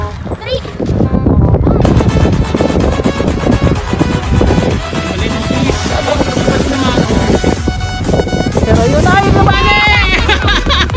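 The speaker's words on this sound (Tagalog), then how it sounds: "Lakas ang hangin eh." Strong wind buffets the microphone with loud, steady roaring gusts while people talk underneath during kite flying.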